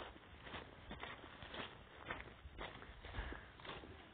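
Footsteps walk up to a house outdoors, a quiet, evenly paced series of soft steps with no talking.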